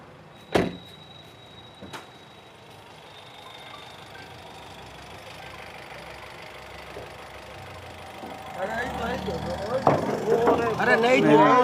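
The bonnet of a 2016 Honda City SV diesel is released and lifted, giving two sharp clunks close by near the start, followed by a low steady background that swells with nearby voices talking.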